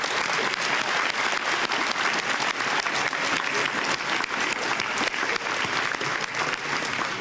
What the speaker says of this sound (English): please give a round of applause for the last set of NHS inductees.